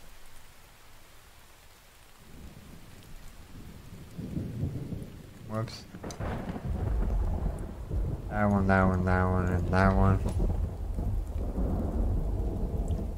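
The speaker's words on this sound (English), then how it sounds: "Sure is a stormy day out here today." A game thunderstorm in The Infected brings steady rain and rolling thunder that build and grow louder through the middle. A voice talks briefly over the storm.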